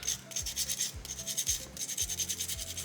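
A small soapstone owl carving is sanded by hand in quick back-and-forth strokes, each pass a rhythmic, raspy scrape repeating about twice a second, close and clear.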